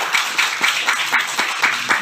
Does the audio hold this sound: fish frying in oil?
no